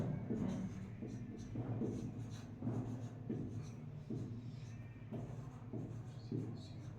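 A pen scratches across paper in quick rhythmic strokes with short pauses, faint and close up, during a class 8 mathematics lesson.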